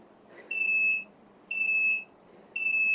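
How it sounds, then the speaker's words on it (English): A workout interval timer beeps three times, each a loud, steady electronic tone held about half a second and repeating once a second over a quiet room background. "I'm going to start the timer in 10 seconds"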